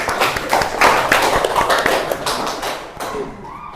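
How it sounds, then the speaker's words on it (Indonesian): A classroom of students claps for a group that has just finished presenting, uneven hand claps and taps that rise and then thin out toward the end. "Tepuk tangan buat kelompok."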